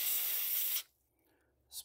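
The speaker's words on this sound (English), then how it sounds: "spray some in there" Electrical contact cleaner sprayed from an aerosol can into a PS5 controller, giving a steady close hiss for under a second, a pause, then a second short burst.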